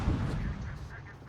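Naval gunfire in World of Warships from a tier VII American light cruiser, a single deep booming report that rolls off into a fading rumble.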